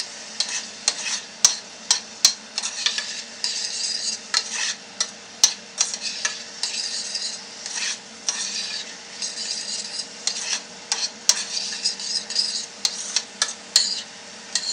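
Onions sizzle in a pan for pork lettuce wraps, a constant bright frying hiss punctuated by sharp, irregular clinks and scrapes of a utensil stirring against the pan, close up with no talk.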